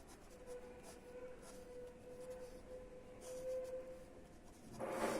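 Equations are written on a board during a physics lecture, leaving faint, soft scratching strokes in short bursts over a quiet room, with no talking.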